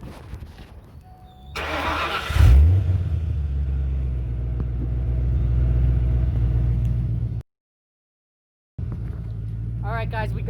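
A Ford Mustang GT engine cranks and fires, catching with a loud burst and settling into a deep, steady rumbling idle close by, cut by a brief gap before the rumble returns.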